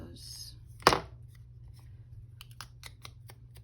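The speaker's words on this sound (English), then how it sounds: "I cut these with those scissors" A single crisp snip of scissors trimming craft paper at a tabletop, one close sharp cut followed by faint light rustling and tapping in a quiet room.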